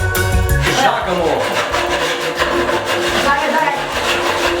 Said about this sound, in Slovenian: Ali bova uspela prežagati to desko?